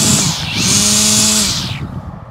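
Makita cordless grass trimmer spinning up in its third speed mode, a loud close whine that rises, holds steady and then cuts off, leaving a quieter tail.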